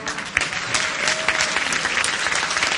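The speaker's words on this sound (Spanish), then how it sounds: "Un aplauso." Applause for a technical school fills the span, a dense steady clatter of many hands from a crowd, fairly loud throughout.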